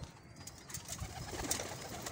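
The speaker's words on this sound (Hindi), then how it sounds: "सारे कबूतर माशाल्लाह आ गए हैं जी" Pigeons coo softly and repeatedly in a low, murmuring chorus against faint background noise.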